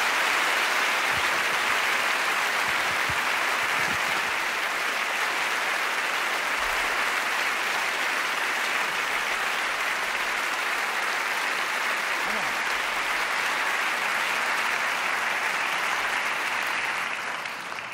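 Sustained, loud applause fills an award ceremony hall at the Bavarian Film Awards, steady and dense from start to finish before tapering slightly at the end.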